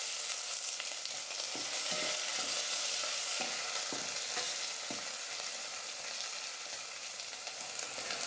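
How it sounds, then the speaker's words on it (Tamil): Chopped onion and curry leaves frying in hot oil for a South Indian kulambu, a steady, fairly loud sizzle with a few stirring scrapes and no talking. "கொஞ்சம் கருவேப்பிலை எடுத்துருக்கேன், அதையும் சேர்த்துடுறேன்."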